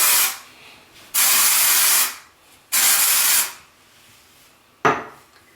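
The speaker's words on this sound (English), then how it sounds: "if you need to add a little bit of texture, use a little dry shampoo" KMS Hair Play Makeover dry shampoo spray applied to hair in three close, loud aerosol hisses, two longer bursts of under a second each and a final short puff, with quiet pauses between.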